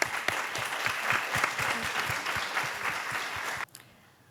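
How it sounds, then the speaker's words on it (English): Audience applauding panelists at a healthcare startup event: a full crowd clapping with a few sharp, distinct claps near the front, steady for several seconds before cutting off abruptly, leaving faint room tone. "Please give a big round of applause to the panelists"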